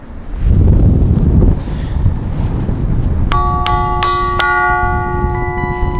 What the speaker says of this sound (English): We've rung the bell at the end of the longest pier in the world.